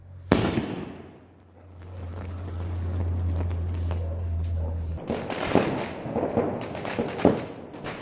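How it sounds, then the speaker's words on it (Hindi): A 2.5 inch sky shot firework shell with a blue bubbles effect: a sharp launch thump, then a soft whooshing rise and a burst of crackling pops at a moderate distance, with a steady low engine-like hum underneath. "चलिए स्काई शॉट को टेस्ट करके देखते हैं।"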